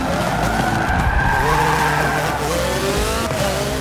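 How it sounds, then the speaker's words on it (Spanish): Cars drifting on a race track in the video game Forza Motorsport 7, loud sustained tire squeal and skidding over roaring engines, continuous and close throughout. "disfrutar conduciendo a grandes velocidades y derrapando en las curvas"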